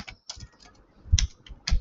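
Keys tapped on a computer keyboard, a handful of separate close clicks in an irregular rhythm with short pauses between them, no talking.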